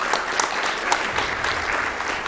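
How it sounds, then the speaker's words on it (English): An audience at a speedrunning marathon event applauds, with dense, continuous clapping at moderate loudness and no break from start to finish. "I started clapping too"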